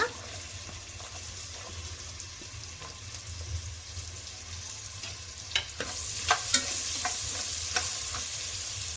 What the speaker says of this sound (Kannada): ಫ್ರೈ ಮಾಡ್ಕೊಂಡ್ಮೇಲೆ ಇಲ್ಲಿ ನಾವು ಕಟ್ ಮಾಡಿ ಇಟ್ಕೊಂಡಿರ್ತೀವಲ್ಲ ಈರುಳ್ಳಿನ ಆ್ಯಡ್ ಮಾಡ್ಕೊಳ್ಳೋಣ